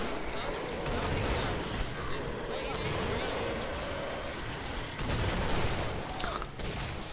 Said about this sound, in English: I can't see myself shooting, but I'm shooting.